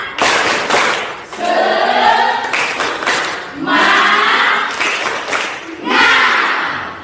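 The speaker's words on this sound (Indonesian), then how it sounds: "ayo kita tepuk semangat dulu" A classroom of students performs a spirit clap chant, with loud group shouts and claps in bursts and short pauses, in a lively close rhythm.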